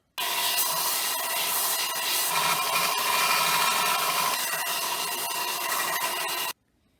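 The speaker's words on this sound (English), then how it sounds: "So now I'm going to sharpen this nail point so it's a little more round and a little more sharp" A nail point being sharpened for a homemade WWI trench spike, a steady dense abrasive rasp that runs unbroken for about six seconds, loud and close, then stops abruptly, with no talking.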